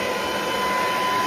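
A snow blower runs in a steady, loud, unbroken roar during December snow clearing, with a constant whine on top and no talking.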